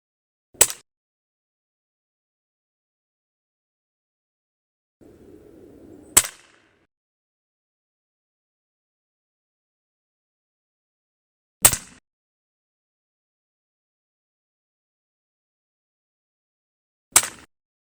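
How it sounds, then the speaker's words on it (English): A Chiappa FAS AR611 .22 PCP target air rifle firing JSB pellets produces four sharp, isolated shots spaced several seconds apart, each a crisp crack with silence between, plus a brief low rustle just before the second shot. "I'm going to do one shot each of 13 through 18 grain JSBs"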